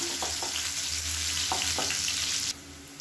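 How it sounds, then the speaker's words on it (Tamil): Shallots sauté in hot oil with fennel and curry leaves, a steady close sizzle broken by a few sharp pops and spatters, with no talking. "சின்ன வெங்காயம் நல்லா வதங்கட்டும்."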